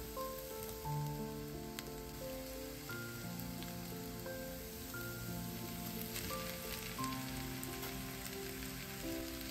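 Chopped vegetables with salt, dry chilli and cumin frying in a pan give a steady, close sizzle that runs the whole time beneath sustained background music.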